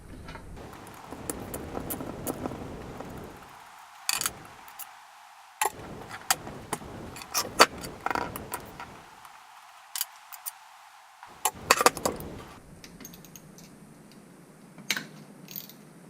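Screws come out of a small hydraulic press motor under a hand nut driver, close ratcheting clicks and small metallic ticks in irregular runs with brief pauses.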